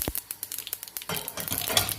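A burst of sharp sizzling as hot tempering oil hits cooked masoor lentils with spinach, preceded by a few quick clicks and stirring sounds, close and loud.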